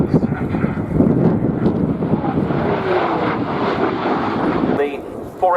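Powerful, broad roar of US Air Force F-15E fighter jets from the 480th Fighter Squadron running in at an airshow, with wind buffeting the microphone. A commentator talks over the jet noise throughout.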